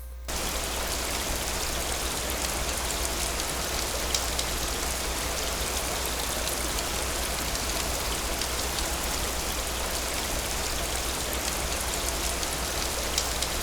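Steady, loud rainfall in the RealmCrafter video game, a dense even hiss of falling rain that fills the whole stretch on its own without any talk or pauses.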